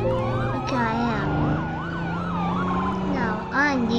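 A police car siren wails loudly and close in a game setting, its rising and falling tone repeating steadily over a low engine drone, with a second siren layer briefly joining near the end.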